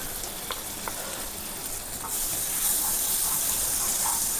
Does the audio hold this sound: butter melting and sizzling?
yes